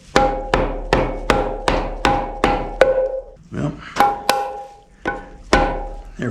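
A hammer striking a rusted harmonic balancer on a 350 V8 in a '56 Chevy truck, a series of loud sharp metallic blows in a quick regular rhythm, pausing briefly, then a few more spaced hits, up close.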